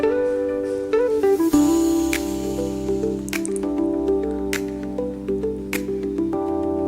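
Semolina being stirred with hot water for pineapple sheera made in pure ghee: soft, wet squishing and dripping sounds recur steadily through the clip, while a sustained tonal backdrop plays underneath.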